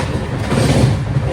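Inside a 3AC coach of the Gurudev Express running at 130 km/h, a steady broadband rumble and rattle fill the space, with no talking.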